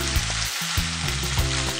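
Beef strips frying in oil over high heat, a loud, dense sizzle with rhythmic low thumps and scrapes as the strips are pushed apart, close and continuous without speech.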